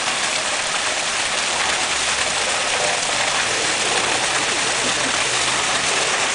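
Steady, dense rushing of water pouring onto and draining through pervious concrete, a continuous loud hiss like a stream with no pauses or voices.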